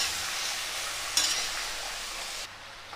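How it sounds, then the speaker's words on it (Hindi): Pumpkin stirred into frying garlic and red chilli in a pan, a steady bright sizzle with a sharp scrape partway through, then the hiss drops away sharply toward the end. "अब इसमें हम एक कद्दू डाल देंगे। इसको हम मिक्स कर देंगे।"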